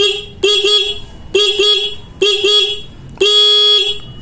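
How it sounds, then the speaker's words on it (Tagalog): A car horn, wired with a passing light to the stock headlight, honks loudly and close in four repeated blasts with the ignition on, each with a short stutter at the start, separated by brief pauses. "I-on lang po natin itong ating ignition switch, at saka po tayo bumusina."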